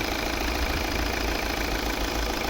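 A 2014 Volvo V60 with a 2.0 D4 Euro 6 diesel engine runs at a steady idle, a close, continuous low rumble with an even knock and no voices over it.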